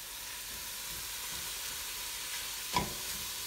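Ground beef browns in a pan of tomatoes for chili beans, giving a steady, faint sizzle with one brief louder crackle near the end.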